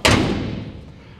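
A single heavy thud as the hood of a 1969 Chevrolet C10 pickup slams shut, close and sharp with a brief decaying ring.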